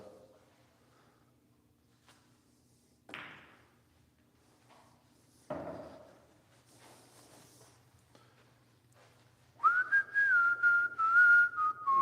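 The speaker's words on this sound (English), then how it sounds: "whistling into the microphone." A few scattered clicks and thumps, then a loud sustained whistle near the microphone, wavering slightly in pitch before breaking off.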